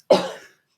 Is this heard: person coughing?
yes